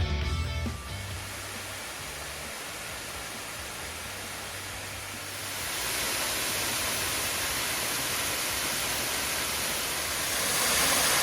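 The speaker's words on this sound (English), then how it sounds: "Yeah, it's such a beautiful waterfall." Calista Falls in the Big South Fork area pours steadily, a constant broad rush of falling water that swells slightly louder midway, with no voices.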